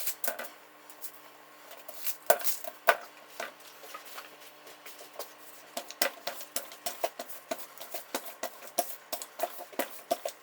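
Pie dough for a cherry pie lattice is rolled out on a countertop, giving soft, irregular taps and knocks from the rolling pin that come close together, quiet and near, with no talking.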